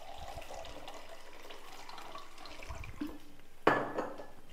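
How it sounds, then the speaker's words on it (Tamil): Water is poured into toor dal chutney cooking in a pan, a soft continuous trickle and splash that ends in a brief clatter of a vessel against the pan. "இதுக்கு வந்து தண்ணி கொஞ்சம் நிறையா சேர்க்கணும்."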